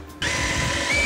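A power drill drives a screw into a flat roof lantern on a building site: a steady, close whirring motor that starts abruptly and runs continuously with slight pitch shifts.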